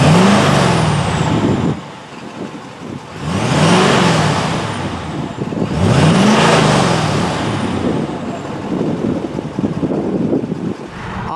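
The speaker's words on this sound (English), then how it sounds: "here is an exhaust clip so you can hear exactly what it sounds like flowing out" A deep, rumbling 2021 Ford F-250 Harley-Davidson pickup exhaust revs up in three surging waves, loud and close, each rise followed by a throaty drop back to idle.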